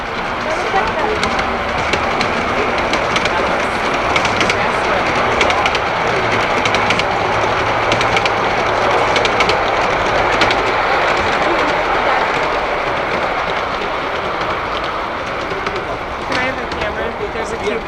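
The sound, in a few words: model train running on track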